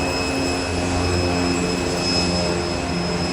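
A Cessna O-2A Super Skymaster takes off from Boise airport, its twin engines giving a loud, steady drone that holds throughout with no talk.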